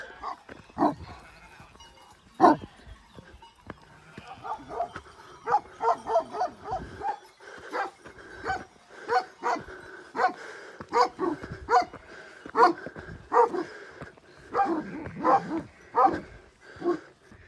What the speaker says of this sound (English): My first experience of these dogs that live with the sheep.